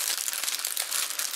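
A thin plastic packaging bag holding an epoxy resin album crinkles steadily, close and continuous, with no voices.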